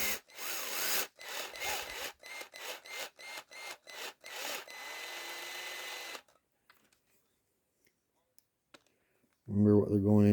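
Screws driven back into the steel and aluminum parts of an RC car's center differential, heard as a run of short rasping, grinding bursts close up, then quiet clicks, with a voice at the very end.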